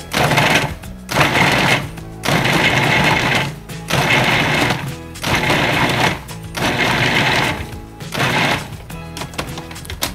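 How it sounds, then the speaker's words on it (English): A food processor pulses pumpkin pie ingredients in a series of loud, close bursts of whirring blades, each about a second long, separated by short pauses. "I like a food processor because it gets it done quickly and more uniform. So now we're just gonna pulse it."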